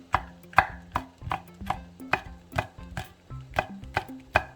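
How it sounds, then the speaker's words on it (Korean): A knife thinly slices seasoning vegetables on a cutting board for a seasoned eggplant side dish, with about a dozen evenly spaced sharp chops landing on the board, close and clear with no talking. "떠지는 동안 양념을 썰어 놓을게요"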